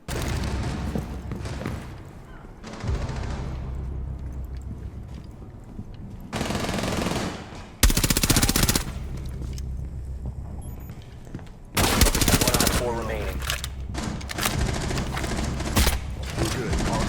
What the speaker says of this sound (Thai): ต่อไปเป็นปืนกลอีกกระบอกจะเป็น MP7